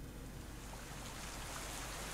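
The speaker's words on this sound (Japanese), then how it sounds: "いきなり雨降ってきた。" Rain pours steadily in the video game Twisted Wonderland, a dense, even hiss of falling water with no voices over it.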